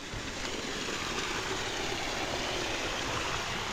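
Water from a stream near a village mango tree rushes in a steady, full broadband wash that stays loud and constant throughout, with no voices.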